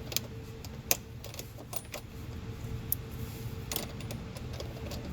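A short ratcheting screwdriver drives a screw through a Rokblokz mud flap on a 2019-2021 Subaru Forester. Quick metallic clicks and ticks come in uneven bursts, close and fairly quiet, with no talk.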